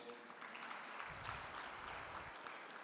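Audience applause at a presidential inauguration ceremony honouring engineers from Botswana: steady, sustained clapping from a large crowd filling the room for nearly three seconds at moderate level.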